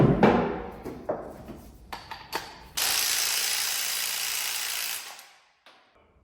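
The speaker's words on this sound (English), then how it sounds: "I'm gonna grab the impact and a hammer." Several metallic clanks and knocks lead into an impact wrench rattling hard on an exhaust manifold bolt of a 1965 Galaxie 500 in one sustained, loud burst lasting a couple of seconds.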